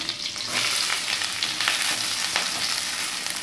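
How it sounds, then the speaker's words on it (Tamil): Sliced onions and green chillies sizzle and crackle steadily in a hot pan, a dense close-up frying hiss with occasional stirring bursts, no voices. "வெங்காயம் பொன்னிறம் ஆகிற வரைக்கும் ஃப்ரை பண்ணிக்கோங்க"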